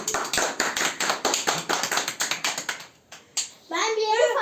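Quick, sharp hand claps tap out a fast, fairly even rhythm up close at a child's first birthday, then stop, giving way to a voice.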